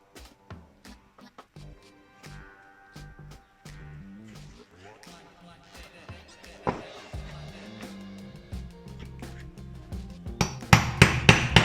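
Repeated sharp hammer strikes punching a hole in fabric for a tarp bag tap out an uneven rhythm, growing louder and denser toward the end, with a few scattered knocks in between.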